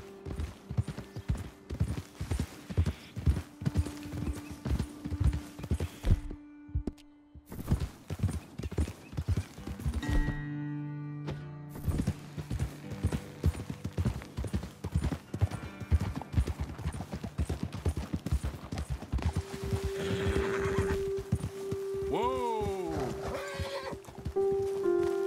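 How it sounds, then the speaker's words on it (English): Horses in Red Dead Redemption 2 trot with a steady, close clip-clop of hooves through most of the stretch, broken by a few brief pauses, with loud neighs and whinnies rising near the end. "Best leave the horses back a bit"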